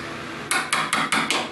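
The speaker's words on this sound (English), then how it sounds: "Just tap it under the board." Five sharp, evenly spaced hammer taps strike under a wooden kitchen shelf board after a short quiet lead-in, close and loud with a quick woody knock, and no talking.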